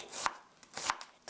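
A knife slicing onion thinly on a cutting board, two crisp close chops with a faint tap between, quiet and alone.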